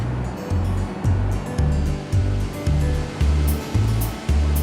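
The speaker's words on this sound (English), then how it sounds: "This machine finely chops and flattens the leaves." A tea processing machine finely chops and flattens withered tea leaves. It makes a regular rhythmic thumping, roughly two beats a second, over a steady mechanical drone.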